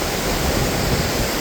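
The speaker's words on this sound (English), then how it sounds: "this river behind me is a bit chaotic." A fast-flowing, chaotic river rushing with a large volume of water, a loud, dense, continuous broadband roar close by with no talking.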